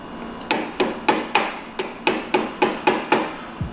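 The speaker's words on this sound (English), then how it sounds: "With a few hits from a metal sledgehammer, the shifter fits perfectly, somehow." A metal sledgehammer strikes a car shifter on an abandoned Mazda Miata being rebuilt, about eleven loud close metallic blows in a steady, evenly spaced rhythm.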